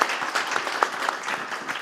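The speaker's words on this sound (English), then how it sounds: "Let's give a round of applause for our panelists." Audience at a banking expo payments panel clapping for the panelists, a dense, steady burst of many hands in a hall, brief and loud throughout.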